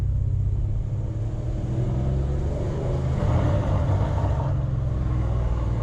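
A Dodge Challenger ScatPack engine rumbles steadily through its exhaust, deep and continuous at close range, swelling slightly midway with no voices over it.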